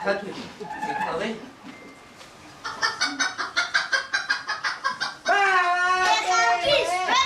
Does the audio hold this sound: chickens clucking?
yes